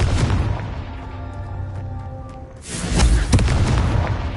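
A Confringo fire spell explodes in the Hogwarts Legacy video game, a loud booming blast with a rumbling tail, followed by a second heavier burst of crackling impact about midway through, with no talking.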